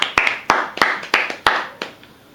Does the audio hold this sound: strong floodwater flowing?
no